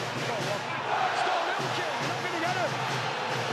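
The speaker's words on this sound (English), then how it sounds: "The crowd really engaged and underneath us now. The South stand in full voice." The stadium crowd at a Super League rugby league match between Leeds and Hull KR sends up a dense, sustained roar and cheer from the South stand, with a commentator talking over it.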